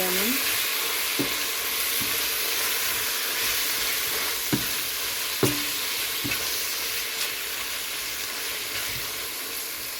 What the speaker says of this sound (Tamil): யாழ்ப்பாணத்து கறித்தூள் சேர்க்குறேன் இது மூன்று மேஜர் கரண்டி சேர்த்துட்டு நல்லா கிளறி